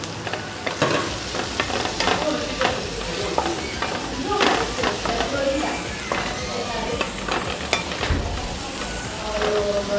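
A fish braise with chopped parsley stirred in a sizzling pot, steady frying hiss with intermittent scraping stir strokes, a voice talking over it.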